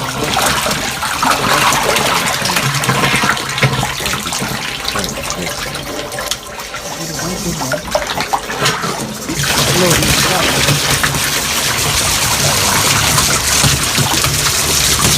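Fresh water pours steadily and loudly into a fish pond, a continuous close rushing splash that swells slightly in its second half.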